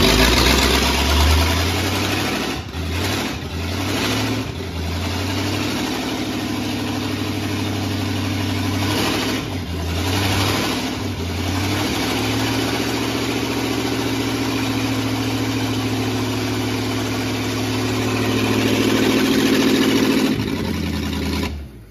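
A 1950 Ford F1 pickup's flathead engine runs with no muffler or exhaust, a loud, raw, rumbling idle with uneven revving bursts in the first seconds, then a steady throbbing drone close by with no talk.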